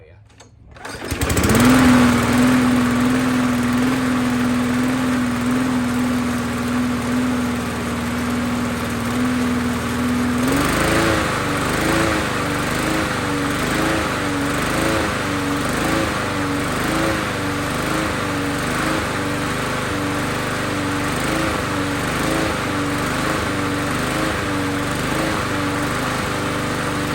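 A 2003 Huskee lawn mower with a Briggs and Stratton engine and a suspected cracked carburetor idles at low speed, a steady close drone that shifts to a rougher, pulsing run partway through, with no talk over it.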